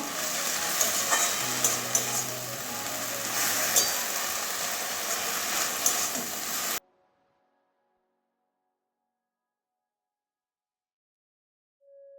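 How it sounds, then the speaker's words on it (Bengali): Water spinach tempered with nigella seeds fries with turmeric and salt in a pan, a busy sizzle with stirring rustles for about seven seconds before cutting to near silence. "নুনটাও দিয়ে দিচ্ছি পরিমাণ মতো এবারে সবগুলো আবারও মিশিয়ে দেবো"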